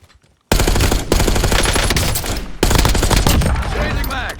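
Machine gun fire in a video game rattles in loud, dense sustained bursts after a brief quiet start, with a short break and a fresh burst, close and overwhelming.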